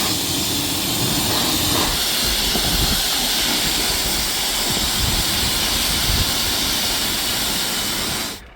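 A high-pressure rinse spray hisses steadily and loudly as it washes heavy oil off a camper van, a constant broadband rush that cuts off just before the end.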